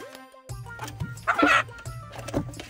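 Hens cluck and squawk in short agitated bursts nearby, with a louder flurry in the middle, under background noise and no talk.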